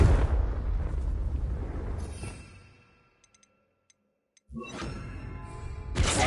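Spell blasts from Bombarda and Confringo in Hogwarts Legacy: a broad, loud explosive roar that swells and fades to near silence, then a second sharp burst erupts, with no talking.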